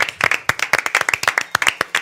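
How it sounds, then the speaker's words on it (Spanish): A small studio audience claps on a Spanish-language game show, sharp individual handclaps in a quick, uneven rhythm, close and loud, with no talk over them. "Un aplauso para él, por favor."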